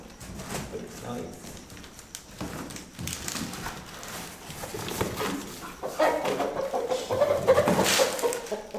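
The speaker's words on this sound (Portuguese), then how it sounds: "Nós temos ali o galo de pintura muito bonito." Clucking and crowing from a rooster, with fowl sounds scattered through a busy outdoor scene while someone speaks Portuguese over them and a dog may bark nearby.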